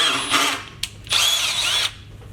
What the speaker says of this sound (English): Run your drill through it, and then run your tap.